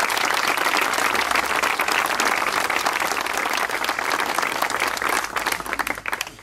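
Sustained applause from an audience at a tribute event in Cardedeu, dense steady clapping that holds loud throughout and thins slightly near the end.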